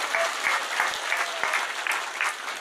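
Audience applause at a Javanese-language religious lecture, a steady wash of many hands clapping with faint rhythmic swells, moderately loud and continuous throughout.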